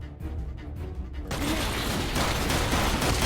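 Gunfire from a gun in the Minecraft video game erupts after a quieter opening, a dense rapid volley that stays loud and continuous to the end, with no voices.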